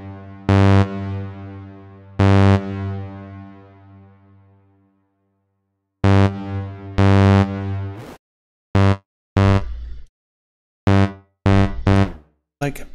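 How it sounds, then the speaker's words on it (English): A plate reverb effect: a sustained, harmonically rich tone rings out with a long, smooth decaying tail, then several shorter bursts with quick, dense reverberant fades, loud and close. "Like a plate reverb."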